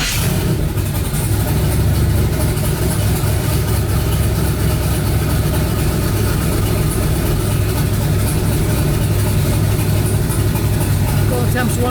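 Twin-turbo 5.3 engine in a New Edge Mustang fired up for its first start, settling into a loud, steady, rumbling idle that runs continuously close by, with voices over it.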